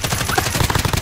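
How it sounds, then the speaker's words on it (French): A silenced rifle fires in a rapid, steady stream of muffled close shots in the Warzone video game, ending in a sharper burst. "voilà, personne sait d'où ça tire, je tire."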